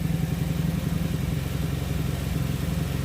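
A motorcycle engine idles steadily after an ECU repair, a close, even low-pitched chug running without pause and with no voices.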